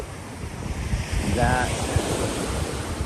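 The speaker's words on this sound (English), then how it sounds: "As we listen to the sound of the waves" Ocean waves break and wash on a windy shore in an ongoing, rushing roar with gusts of wind buffeting the microphone, while a voice speaks briefly in the middle.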